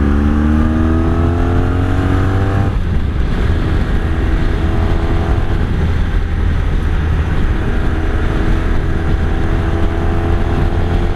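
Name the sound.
1983 Honda Sabre VF750S motorcycle engine on the highway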